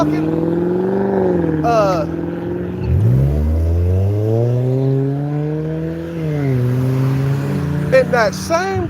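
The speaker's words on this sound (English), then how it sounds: "those loud ass cars" Loud car engines rev and roar, their pitch climbing and falling as vehicles speed past one after another.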